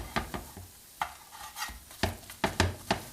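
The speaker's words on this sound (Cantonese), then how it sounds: "而家慢火嚟到慢慢煎佢，煎到佢兩邊脆為止" A Chinese spring onion pancake fries slowly over low heat in an oiled pan, giving quiet scattered crackles and sizzling pops with soft scraping taps from a spatula pressing it down.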